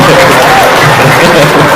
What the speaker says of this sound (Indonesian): Tepuk tangan lagi dong, sekali lagi.